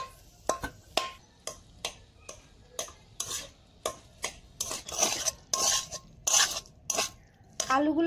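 A metal spatula breaks up boiled potatoes in a pan while making suji pocket singara, a quick series of close scraping, tapping strikes against the pan, irregular but steady, with a soft sizzle underneath.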